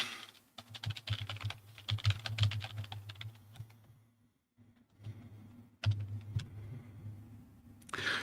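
Quick bursts of typing on a computer keyboard, soft clicking keystrokes in rapid runs with a brief pause midway, fairly quiet and without speech.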